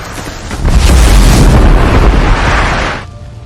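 A loud, sustained blast in a war film roars in at half a second, a broad rumbling boom with debris-like crackle holding for over two seconds before cutting off abruptly into quieter ambience.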